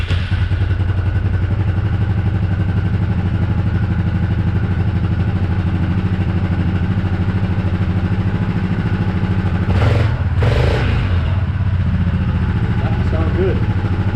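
Yamaha Grizzly 660 ATV engine running at a steady idle with a low, continuous mid-pitched drone, then a short rise in revs partway through, recorded up close.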